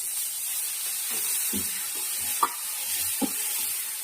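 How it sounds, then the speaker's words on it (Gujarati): Green chilies and tomatoes cooking in hot oil for a vegetable dish, a soft steady sizzle and hiss with a few brief stirring knocks, close and fairly quiet with no speech. "ઘડીક બધું તેલમાં ચડવા દઈએ"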